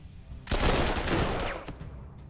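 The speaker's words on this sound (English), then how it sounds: "Okay, there's an artillery." Artillery fire in the strategy game Panzer Corps 2: a single loud, dense blast with a rumbling tail lasting about a second, then fading, with no voices.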